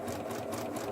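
Sewing machine back-stitching at the start of a quarter-inch seam on a bunny gift bag, a brief, fast, even motor whir with rapid needle ticking.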